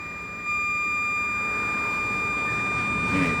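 A metal detector gives a steady, thin high-pitched mosquito-like whine held continuously over a faint background hiss, close and unchanging, with no talking.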